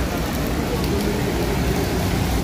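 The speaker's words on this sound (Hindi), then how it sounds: "इतना बारिश हो रहा है गाइस" Heavy rain pours down as a dense, loud, unbroken roar that fills the whole clip.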